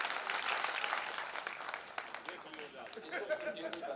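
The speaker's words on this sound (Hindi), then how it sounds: "पूरा ताली आप लोग बजा दीजिए एक बार।" A live audience at an Indian stage program breaks into sustained clapping on request, dense and steady at first, then thinning into scattered claps with a little crowd murmur underneath.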